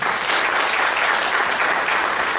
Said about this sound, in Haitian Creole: Battons bravo pour eux toujours.